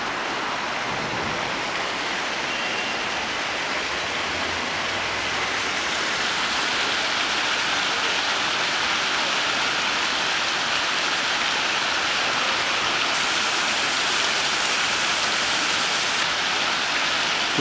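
Continuous hiss and splash of flowing water in central Baku, steady and fairly loud throughout, with no voices.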